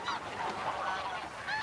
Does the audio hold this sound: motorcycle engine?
no